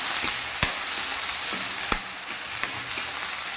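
Mint chutney ingredients sautéed in a pan, giving a bright steady sizzle with a few distinct spatula knocks and scrapes, close by.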